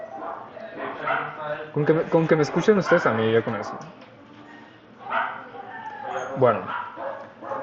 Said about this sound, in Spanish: Se escucha mucho el perrito